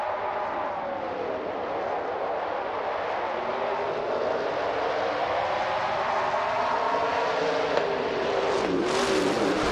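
Several NASCAR trucks in a racing video game accelerate from the race start at Mid-Ohio, a dense, steady engine roar with rising revs that continues loudly throughout, with no voices.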